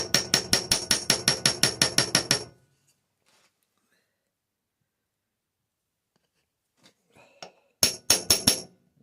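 A small hammer taps the sides of a rivet in a live-steam model locomotive hinge bracket to seat it. A rapid run of about a dozen sharp metallic taps is followed by quiet, then a few faint ticks and a shorter burst of taps.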